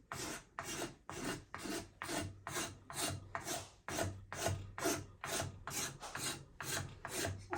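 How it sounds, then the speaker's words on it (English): A hand scraper works over a wooden axe handle in steady, rhythmic rasping strokes, each pull a close, bright scrape with short pauses between, and no voices. "let's go to the scraper a few minutes. Clean all that up a little bit."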